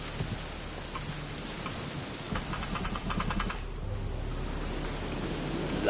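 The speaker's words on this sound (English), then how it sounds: "It's raining cats and dogs." Steady, heavy rain pouring down continuously in The Witcher 3: Wild Hunt, a dense hiss of drops close by, with no voices.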